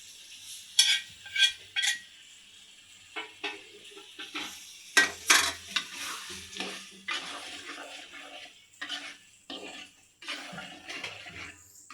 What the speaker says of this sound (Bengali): তারপরে টালা গরম মশলাগুলো দিয়ে দিচ্ছি।